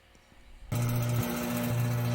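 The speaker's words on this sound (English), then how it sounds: "We're going to put some RPMs on this saw. It's pretty hard. This is a Lab Grown Quartz." A lapidary saw spins up suddenly and cuts into a hard lab-grown quartz plate, a loud, steady motor whine and grinding hum that continues without pause; no speech.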